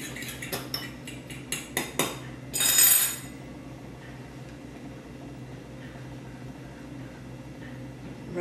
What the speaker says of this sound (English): So I'll just blend it all together with a fork.